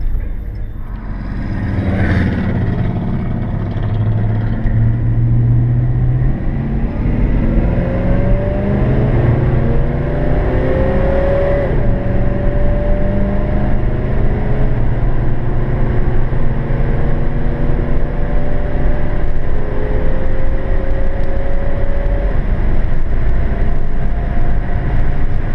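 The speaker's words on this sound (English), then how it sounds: "We'll run down the street here, record pulling onto the freeway." A 1966 Plymouth Barracuda accelerates onto a freeway, its engine note climbing steadily in pitch through the gears over constant loud road and cabin rumble, heard from inside the car.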